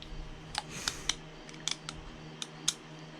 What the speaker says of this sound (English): I'm gonna go ahead and pull this screw back out.